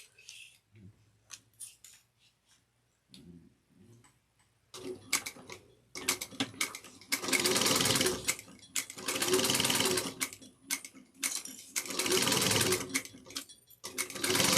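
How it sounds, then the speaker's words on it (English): A sewing machine stitches a tote bag seam at 3/8 inch with backstitching, beginning with soft quiet handling and clicks, then running in several loud bursts with short pauses between them. "So we're going to sew this at 3/8 of an inch."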